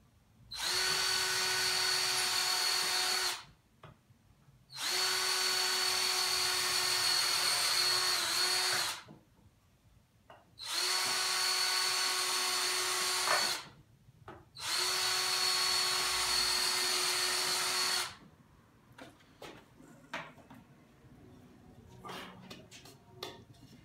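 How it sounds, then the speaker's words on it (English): A power drill whines loudly in four sustained bursts of a few seconds each while drilling pilot holes in wood for a sawhorse, separated by short pauses, followed by light clicks and handling noises. "Drill a couple pilot holes to begin with."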